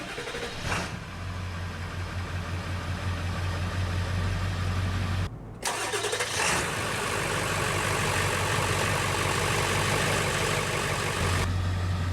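A 2000 Ford F-350 Super Duty with the 7.3 Power Stroke diesel cranks and fires, a brief break then the engine catching into a loud, low, rattly diesel idle that continues steadily.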